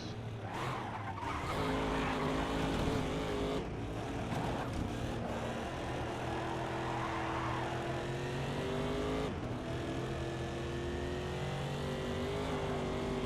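Race car engine in the GRID racing video game, a loud sustained whine with shifting pitch as the car brakes hard, tire skids and squeal mixed in, engine note dropping and steadying throughout.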